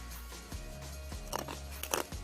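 Several crisp crunches from biting into a crunchy crouton in a kale salad, up close, with chewing in between and no talking.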